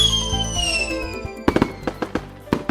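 Fireworks going off for Utah's Pioneer Day season: a whistling rocket rises first, followed by a string of sharp firecracker-like bangs and crackles spread over the last half.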